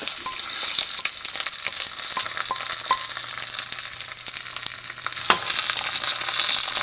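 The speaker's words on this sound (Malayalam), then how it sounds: "നമുക്കിത് ബീറ്റ്റൂട്ട് പച്ചക്കറിയിലോട്ട് ഒഴിച്ചു കൊടുക്കാം" Hot seasoning with curry leaves is poured onto beetroot for beetroot pachadi, and a steady close sizzle and crackle runs throughout with a few light clinks. No one talks.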